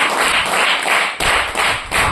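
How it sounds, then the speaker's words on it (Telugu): Church audience clapping hands together in a dense, steady burst of applause, loud and close, with brief dips in intensity. "ఇప్పుడు కొట్టండి చప్పట్లు కట్టి"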